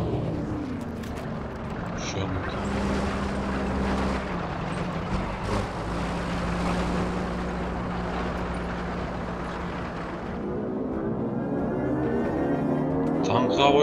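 A World War II aircraft engine in Battlefield V drones steadily and harshly throughout, with a rough buzzing rumble that rises slightly toward the end, and a voice speaks faintly underneath at times.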